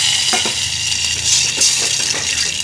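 Hot ghee splutters and crackles in a pan, with steady close sizzling broken by a few sharp pops.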